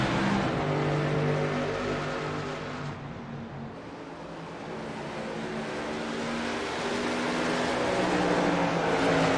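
Pickup race trucks roar back to full throttle after a green-flag restart in a truck series race, a dense loud drone of many engines with a slight dip and rise as the pack passes.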